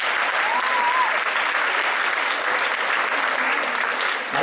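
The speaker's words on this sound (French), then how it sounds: "je pense qu'on devrait applaudir l'organisation qu'est l'EUCAN pour le support aux familles" A crowd applauds the organisation at a Quebec event supporting families, steady dense clapping sustained throughout at even loudness.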